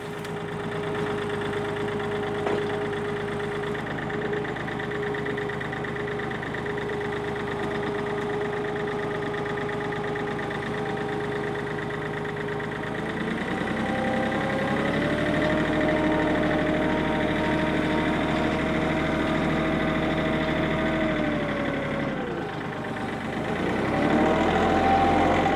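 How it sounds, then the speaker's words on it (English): Tractor being brought out to haul firewood, its engine running steadily and close with a constant drone that shifts pitch and gets louder partway through, dipping briefly before revving again. "I gotta get the tractor out and get some firewood"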